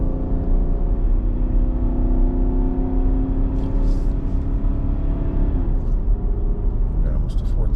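A 2022 Nissan Armada Midnight Edition SL engine climbing a hill while towing an 8000 lb trailer in the Rockies, droning steadily with a rising, strained tone under continuous cabin noise, with occasional speech.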